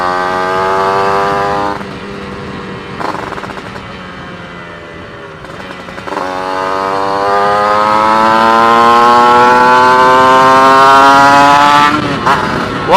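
Kawasaki Ninja motorcycle fitted with a 180cc bore kit and a 34 mm carburetor, ridden on a wet road after rain; its two-stroke engine whines loud and close, rising in pitch through repeated gear runs with brief shifts between.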